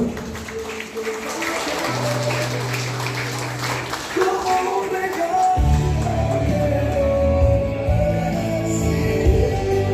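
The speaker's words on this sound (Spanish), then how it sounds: "Démosle fuertes aplausos, por favor." Guests at a quinceañera party in Livingston, Guatemala applaud, a dense spread of clapping mixed with loud party music that swells and continues after the first few seconds.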